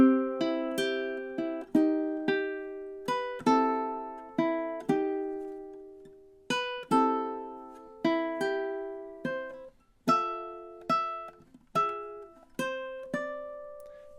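A ukulele plays a flowing run of plucked melody notes in steady time, about two dozen bright, ringing notes, close-miked and alone with no talking.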